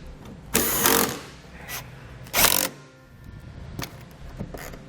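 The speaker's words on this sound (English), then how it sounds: "Now I'll reinstall the rest of our fasteners," A power tool driving fasteners into interior panels of a 2010 Audi Q7, two loud buzzing bursts with shorter whirs between, close up and without talk.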